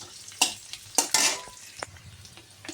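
Onions fry in a pan with a quiet sizzle, broken by a few sharp clatters and scrapes from a spoon stirring against the pan, and no voices are heard.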